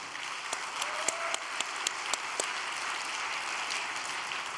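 Steady applause from a church congregation, dense clapping with a few sharper claps standing out, continuous for several seconds.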